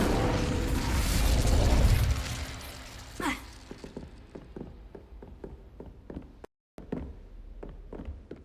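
The Incendio fire spell is cast in the Hogwarts Legacy video game, giving a roaring burst of flame that fades into crackling pops and scattered game effects, with a brief dropout near the end.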